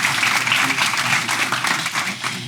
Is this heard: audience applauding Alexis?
yes